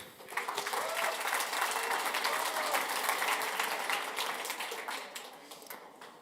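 An audience at the OffensiveCon 2019 security conference applauds to welcome a speaker, a dense, sustained clapping from the crowd that holds steady and then slowly tapers off near the end.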